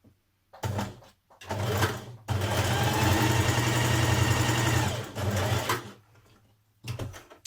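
Sewing machine stitching a sweatshirt side seam in several runs, a rapid buzzing whir with short pauses between bursts and one long steady stretch, close and alone.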